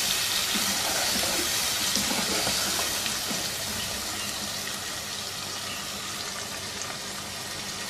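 Steady running water pours continuously into a cooking pot of mutton with a broad hiss, loud and close, tapering slightly toward the end; no voices.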